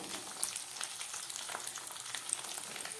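Beans and carrots frying in a pan for veg moong dal, a soft continuous crackling sizzle with faint stirring, heard close and quiet with no voices.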